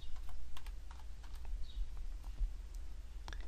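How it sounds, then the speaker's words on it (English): Fingers type on a computer keyboard in quick, uneven clicks, fairly faint and close, over a steady low hum with no talk. "So I'm just going to click and type before."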